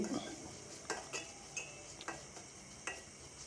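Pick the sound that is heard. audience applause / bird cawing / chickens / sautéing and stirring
sautéing and stirring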